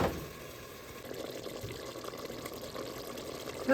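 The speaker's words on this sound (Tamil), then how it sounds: "கொஞ்சம் தண்ணி விட்டுக்கொள்கிறேன்." Water poured into a cooking pot holding potatoes and ginger-garlic paste, a faint continuous trickle and splash heard close by at low volume.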